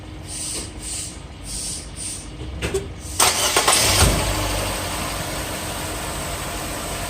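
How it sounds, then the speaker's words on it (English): A Nissan Versa's engine cranks, catches and starts after an oil change, then settles into a steady idle nearby, with no talking. "go ahead and crank the car"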